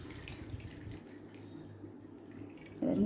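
Steady running water splashing over cowpeas in a container as they are washed, a close wet rushing sound that swells briefly near the end.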